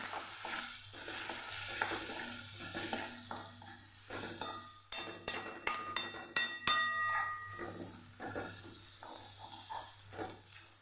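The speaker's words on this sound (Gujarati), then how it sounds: "મસાલાને આપણે સરસ સાતળી લઈશું" Spices sizzle in a hot pan while a spoon stirs and scrapes, with sharp metallic clinks against the pan in the middle.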